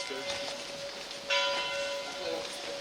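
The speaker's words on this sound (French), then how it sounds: "il est tout juste midi, les cloches viennent tout juste de sonner" Church bells in a mountain village at noon, a sustained ringing tone with a brighter, louder strike about halfway through, heard at moderate distance over faint outdoor background.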